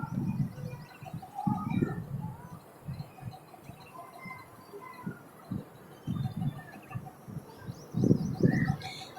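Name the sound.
birds chirping and pigeons cooing at a railway station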